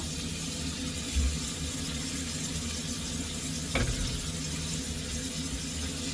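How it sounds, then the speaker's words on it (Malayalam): Green chillies hit hot oil in a pan for a chicken curry, giving a steady, moderate sizzle throughout, with a brief stir or clatter near the start and another sharp clink midway. "പച്ചമുളക് ഇട്ട് കൊടുക്കണം ഞാൻ അതിൽ മൂന്ന് പച്ചമുളക് ഇട്ട് കേട്ടോ"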